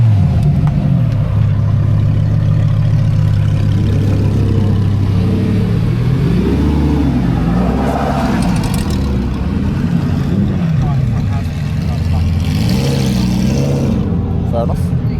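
Supercars and BMW M cars at a cars and coffee meet, engines idling with a low rumble and then revving in rising and falling sweeps, loud and close, with people talking nearby.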